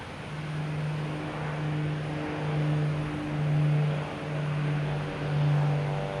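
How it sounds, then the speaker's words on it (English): A Cape Air Cessna 402 twin propeller plane takes off at Boston Logan Airport, its steady droning engine tone swelling and fading in slow waves at a moderate distance. "Next taking off is a Cape Air heading to Martha's Vineyard. Cessna 402."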